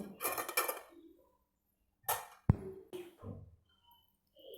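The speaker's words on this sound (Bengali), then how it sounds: "আবারও ঢাকনা চাপা দিয়ে দেব।" A lid settles onto a cooking pan of bottle gourd with prawns, giving one bright metallic clank amid quieter scattered clinks and rustles of kitchen handling.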